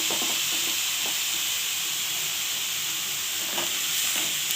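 Dried cabbage and fried potatoes fry steadily in a pan, a loud continuous close sizzle with a few faint knocks of a stirring spoon.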